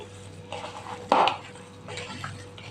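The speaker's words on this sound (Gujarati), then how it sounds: "આ બધું મિક્સ કરી લઈશું બટેટા સાથે।" A spoon stirs turmeric and coriander-cumin powder into mashed potatoes in a pan, with soft scraping and one sharp clink of metal on the pan midway, quiet and close with no talk.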